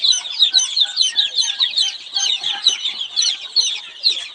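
A crowd of native Bengali hens and chicks clucking and peeping together in a steady, busy chatter, close and loud, with no talking.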